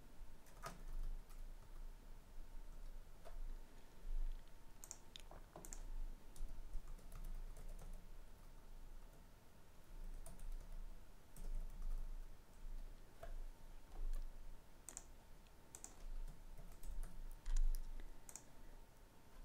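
Variable names being typed into an Excel spreadsheet on a computer keyboard, a steady run of quiet, close key clicks with irregular rhythm and no talking.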